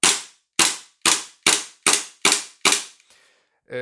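Seven sharp, evenly spaced shots crack from a G&G GPM92 airsoft gas blowback pistol, each a loud close snap with a quick decay, followed by a faint hiss of gas and a final click.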